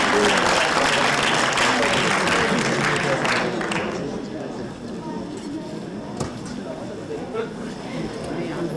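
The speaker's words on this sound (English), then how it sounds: "A round of applause, please." Audience applause at an international conference, loud and dense for the first few seconds, then thinning and fading into scattered claps beneath crowd murmur and talking.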